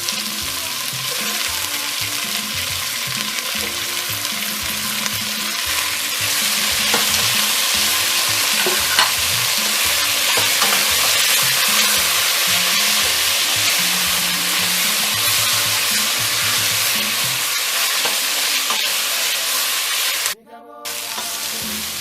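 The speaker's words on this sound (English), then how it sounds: "kind of stir fry my gizzard now with the onion" Steady, loud sizzling and crackling of gizzard and onion stir-frying in a hot pan, with occasional stirring scrapes, continuing throughout.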